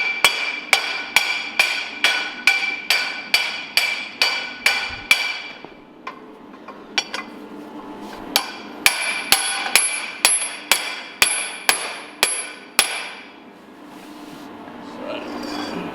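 A wheel bearing is driven into a Hilux Surf rear live axle with a hammer and mandrel: sharp metallic taps in an even rhythm, about one per half-second, pausing briefly midway, then resuming in a second run.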